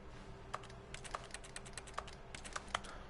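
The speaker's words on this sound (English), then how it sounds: "Why do I sound like I'm typing on a keyboard?" Soft, irregular clicks of keys being typed on a keyboard in the video game The Stanley Parable: Ultra Deluxe, scattered taps in short bursts at low volume.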